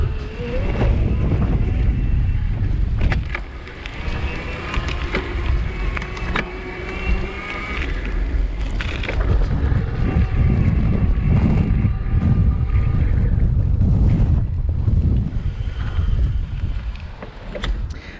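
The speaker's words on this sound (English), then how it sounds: "Now we're gonna just ride along on some street where it's smoother." IZIP E3 TRLZ electric bike riding along a smooth street, a continuous low rumble of tyres and motor mixed with heavy wind buffeting on the microphone, steady and close throughout.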